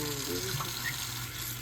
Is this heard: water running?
yes